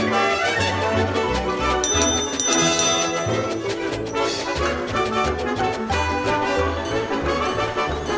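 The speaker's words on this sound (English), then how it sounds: "Toby rang his bell and frightened the policeman" A small engine's bell rings out in quick repeated dings over loud, busy background music.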